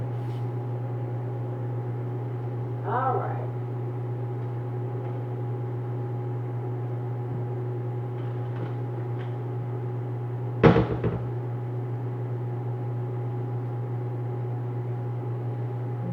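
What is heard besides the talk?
microwave oven cooking ramen noodles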